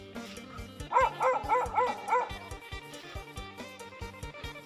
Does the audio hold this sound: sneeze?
no